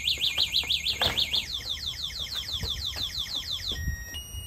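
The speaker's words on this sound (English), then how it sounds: "an app that you can use to set a 120 decibel alarm" A 120-decibel anti-theft alarm on a Bird Bike e-bike blares loud and close, rapid repeating electronic chirps sweeping up and down, changing pattern partway through before cutting to a few steady beeps.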